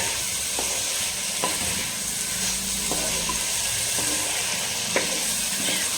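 Chicken masala being stirred as it fries in a pan for a hotel-style chicken roast, a steady close sizzle with repeated scraping spoon strokes about every second, no talking.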